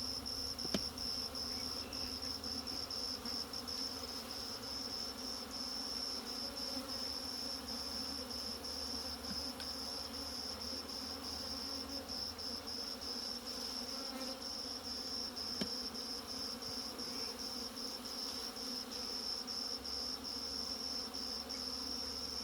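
A soft, continuous buzz of many bees humming together around a nuc hive box during transfer to a deep frame hive, steady and fairly faint, with no talking.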